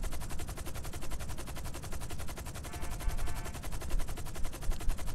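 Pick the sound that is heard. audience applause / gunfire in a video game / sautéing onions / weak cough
gunfire in a video game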